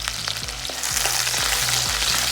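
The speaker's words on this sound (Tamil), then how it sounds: "எண்ணெயிலேயே இந்த பூண்டு வெங்காயமும் வதங்கிச்சுன்னா ரொம்ப நல்லாயிருக்கும்" Shallots, garlic cloves and curry leaves sizzle loudly in hot oil for a Tamil turkey berry kulambu, a steady bright frying hiss broken by several low knocks and stirring clatters, with no talking.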